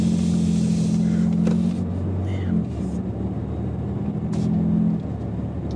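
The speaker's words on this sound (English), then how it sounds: "I'm gonna give it a little more gas here again" A 2019 Ford Raptor pickup's engine rumbles steadily up close, with throttle blips rising and falling over a constant low drone throughout.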